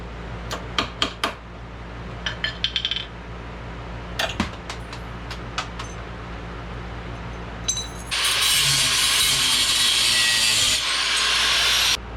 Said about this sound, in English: I'm gonna go ahead and get on taking this peg off and get this bracket cut off now